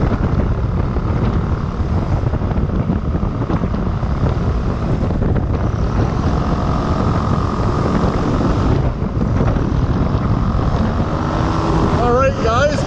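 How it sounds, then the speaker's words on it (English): A small aircraft comes in to land, with a steady, loud roar of engine, propeller and rushing wind close around the cabin that runs unbroken throughout. "So yeah, enjoy this landing."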